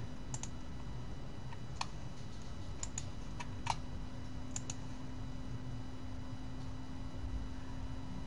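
Computer mouse clicking, a few sharp isolated clicks spaced irregularly over a low steady hum in a quiet room, with no voices.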